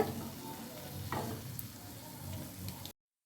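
Tea-stall kajada dough frying in hot oil: a steady, soft sizzle and crackle with occasional stirring clinks, fairly quiet throughout.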